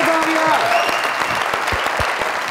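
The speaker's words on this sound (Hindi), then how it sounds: "जोरदार तालियां" A comedy show audience breaks into loud, sustained applause, a thick wash of clapping close up that runs unbroken, with faint voices and a few low thumps mixed in.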